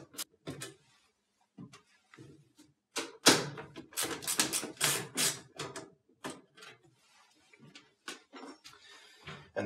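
Screws being backed out of the rear of a Maytag/Whirlpool washer console: a run of sharp clicks, taps and rattles, close by and irregular, with brief pauses between bursts and no talk.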